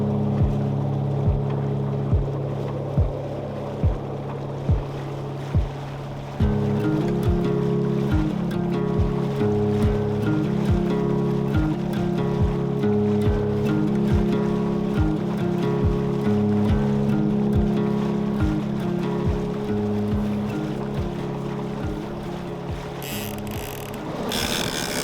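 A sailboat motors along under engine power, with a loud, steady low drone and a rhythmic pulsing thump at first, then a denser throbbing hum as the engine note changes, over water noise.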